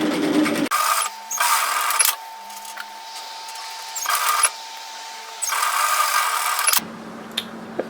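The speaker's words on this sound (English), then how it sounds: "we're going to sew the shoulder seams at 1 centimeter, 3/8 of an inch" Sewing machine stitching the shoulder seams of a tailored vest, a steady mechanical whir in several runs broken by short stops, close and loud, no speech.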